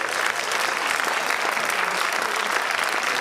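A concert audience breaks into dense, steady applause. The clapping is loud and close, and it keeps up evenly for the full length with no pauses.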